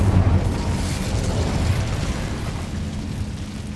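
Incendio fire spell cast in Hogwarts Legacy, a loud roaring burst of flame that swells at the start and sustains as a steady rumbling whoosh.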